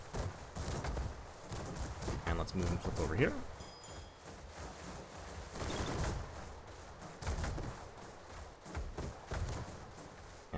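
Heavy booming cannon fire rumbles through an aerial battle between airships in Airships: Conquer the Skies, in irregular bursts of thuds and blasts, while someone talks over the fighting.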